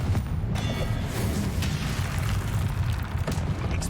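Confringo spell explosion in Hogwarts Legacy during a boss fight: a dense, rumbling blast with crackling bursts, loud and sustained, a low roar filling the whole moment with a few sharper pops.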